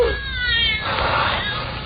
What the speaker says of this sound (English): The cat's come back to the island.